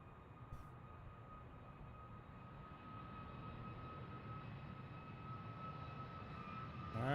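A Boeing 737 MAX 10 jet on its takeoff roll at Boeing Field, a steady distant engine roar that slowly swells in loudness over several seconds, heard with no talk.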